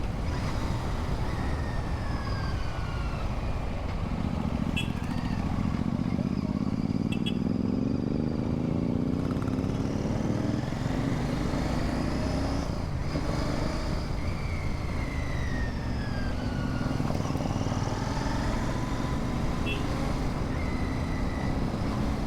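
Royal Enfield Interceptor 650 ridden on a beach road in Visakhapatnam, with a steady engine drone rising and falling through gear changes and wind over the whole stretch.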